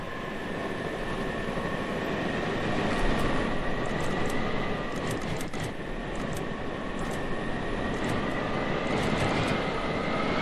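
Continuous loud roaring rush of jet fighter thrusters in the building game Scrap Mechanic, a steady broadband engine blast with faint whining tones, held without break throughout.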